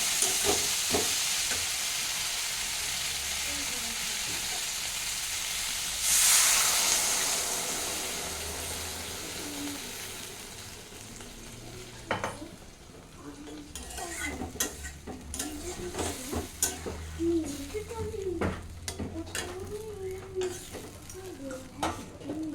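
Water added to fried fish and vegetables in a pan for a Bengali fish curry, a burst of hissing sizzle that settles into bubbling, followed by close stirring and scraping of a utensil against the pan.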